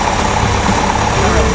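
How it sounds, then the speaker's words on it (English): A decades-old barn find car engine running on its carburetor, a loud, steady idle with a constant low rumble and no change in pace over a short stretch. "what we've got then is a good running carburetor, or good running motor."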